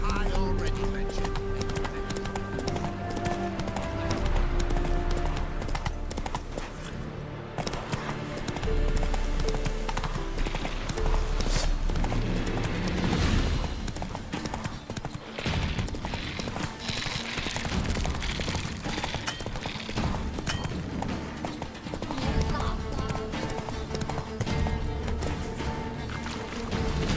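Roach, the horse in The Witcher 3, gallops with steady clip-clop hoofbeats under loud game music and ambience, while a person talks over it throughout.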